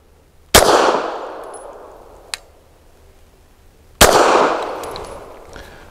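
Two sharp, loud reports from a Walther P99 AS Final Edition pistol firing Circle 10 gamer loads, each with a long reverberant tail, and a faint metallic click between them. No one speaks.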